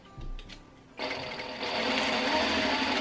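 A domestic sewing machine stitches festive decorations together, starting after a second of quiet handling and then running continuously with a close, steady whirring hum that builds slightly louder.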